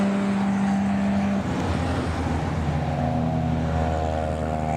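A classic car drives past on a country road during a navigational rally, its engine a steady drone that shifts pitch partway through as it passes, fairly close and loud, with no talking.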